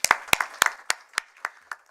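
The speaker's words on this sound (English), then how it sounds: "We commend you for that, and we give you a big applause." A few separate hand claps at a professorial inauguration, sparse and uneven, about eight distinct claps at moderate distance rather than a full ovation.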